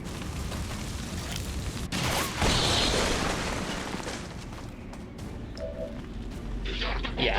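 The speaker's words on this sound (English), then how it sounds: "Pop the Shredstorm cannon." A Shredstorm cannon fires in XCOM 2: War of the Chosen, a loud blast followed by a long rumbling, crackling barrage that fades off, with nobody talking.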